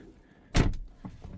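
A Tesla door handle operates with a short mechanical clunk and a whirring motor sound, followed by a fainter second click. The sound is brief, close and fairly quiet, with no talking.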